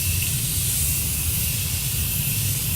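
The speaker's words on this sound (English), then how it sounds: "I'm just going to go in with my Morphe setting spray to set everything in place." A steady hiss of fine makeup setting spray misting close by, continuous and even for a few seconds with no voices.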